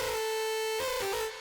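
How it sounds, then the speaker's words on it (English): A bright, buzzy Serum synth monotone from a default preset holds one steady pitch, then shifts slightly near the end, loud and alone for just over a second. "the synth monotone in the default synth packs of Serum"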